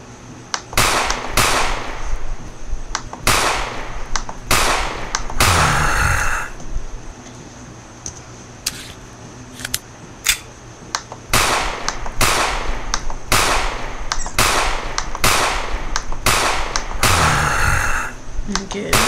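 Rapid bursts of gunfire in a Krusty Krab zombie shooter game, loud sharp volleys repeating in clusters with brief pauses between them.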